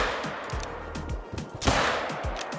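Hunting rifle shots in Call of the Wild, fired while an animal charges, with a few sharp reports spaced across a couple of seconds over outdoor ambience.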